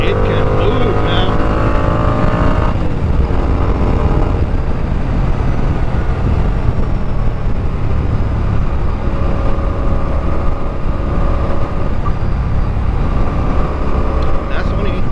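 A motorcycle engine drones steadily while riding and cruising in fifth gear, a loud continuous hum with road and wind rush and faint changes in pitch.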